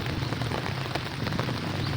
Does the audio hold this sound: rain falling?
yes